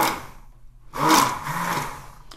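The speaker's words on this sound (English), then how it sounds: "We'll give it a blend to help it sort of thoroughly incorporate" A blender whirs through thick cocoa butter body lotion in two bursts, a short pulse followed by a pause and then a longer, louder run that strains under the dense mixture.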